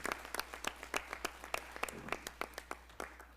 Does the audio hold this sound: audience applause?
yes